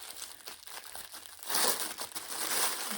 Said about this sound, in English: This is going to turn into an ASMR video, isn't it, with all the rustling.